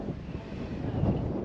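Wind buffeting an outdoor microphone, a steady low rumbling rush with no other sound over it, heard beside an RC scale Bell 230 helicopter built on a Trex 700E.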